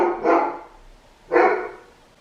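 A pet dog gives two separate barks about a second apart, moderately close in a quiet home, with silence between them.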